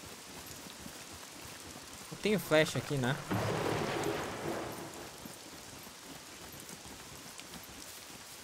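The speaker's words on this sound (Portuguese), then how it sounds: "Bastante agradável o barulho da chuva." Rain falling in the survival game SCUM, a soft steady hiss over a few seconds of movement and clatter, with someone speaking briefly over it.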